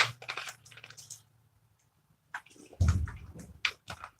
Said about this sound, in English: let me take a drink of water